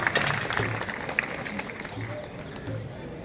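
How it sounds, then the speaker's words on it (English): An audience at a Heritage Week event in Patiala with Indian Army representatives present gives a round of applause. Steady crowd clapping and murmuring continues throughout at moderate distance, and a voice talks over it. "One big round of applause for everyone."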